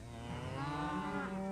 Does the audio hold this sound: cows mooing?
yes